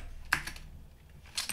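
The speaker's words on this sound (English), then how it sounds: "I was already typing that out" A few sharp computer keyboard keystrokes, a clear tap near the start and another short cluster at the end, with a quiet gap between them while a web layout is coded.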